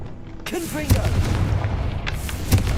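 A fiery Confringo spell blast in the video game Hogwarts Legacy lands as a deep boom, with a second booming hit shortly after, over a busy rumbling background and a brief voice.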